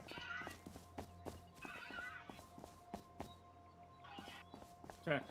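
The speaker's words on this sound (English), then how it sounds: "There's horses everywhere." Horses neighing and whinnying in the survival game Rust, several calls spread across the scene with soft hoof clip-clops and thuds between them, moderately distant and quiet.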